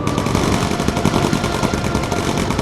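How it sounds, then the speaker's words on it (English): Rapid, sustained machine-gun fire from a bomber's gun turret in the WWII bomber game Bomber Crew, a loud continuous rattle of shots with no talking. "Look at those bullets go, that's insane."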